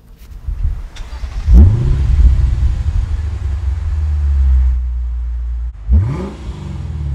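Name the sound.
Lexus RC-F exhaust note revving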